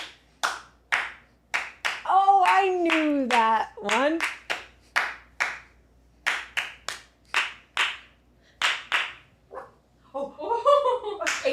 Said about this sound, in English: You should start with a clap challenge. You should try to clap after.